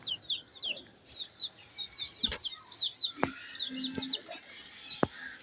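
A hen clucks briefly in a short low burst amid frequent high bird chirps and tweets, with a few sharp knocks and clicks scattered through a quiet setting.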